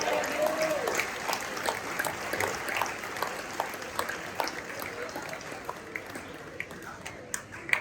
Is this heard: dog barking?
no